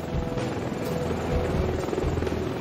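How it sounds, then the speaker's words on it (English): Tiltrotor aircraft powered by two Rolls-Royce Allison engines flying, a steady loud rotor and engine roar with a low throbbing beat that holds throughout, no speech. "once in flight, its rotors tip forward to allow it to fly like a conventional fixed-wing aircraft"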